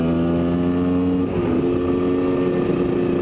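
A new-motored Kawasaki KDX250 dirt bike holds a steady high buzzing rev under light throttle, then dips briefly and picks back up, loud and close.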